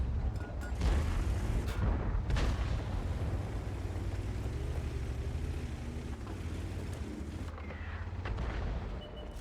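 Artillery fire in the World of Tanks-style tank game on the Karelia map, with heavy booming blasts over a low, continuous engine rumble. A few sharp impacts stand out early, and no voices are heard.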